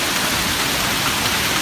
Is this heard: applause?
no